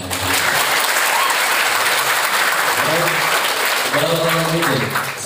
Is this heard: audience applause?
yes